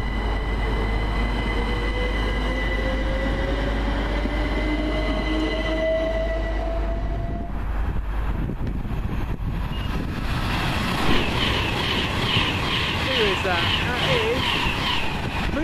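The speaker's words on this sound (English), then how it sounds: "Now just leaving the 1328 Southern Railway service from South Croydon to Milton Keynes Central" Southern Railway electric train, unit 377.204, pulling away, a rising motor whine gliding upward, then rumbling wheels and metallic squeals as it rolls past, loud and steady throughout.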